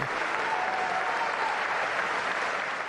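An assembly gathered for Pope Leo applauds steadily, a dense wash of many hands clapping at once, loud and close, sustained evenly throughout with no voices standing out.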